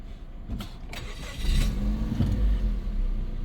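A 2008 Mazda 3 engine cranks briefly, catches and settles into a steady, moderately loud idle close by, with no talking.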